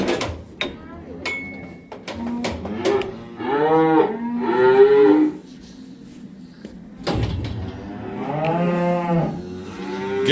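Calves in a barn give several loud, drawn-out moos close by, mixed with clanks of gates or doors and brief bursts of human voices.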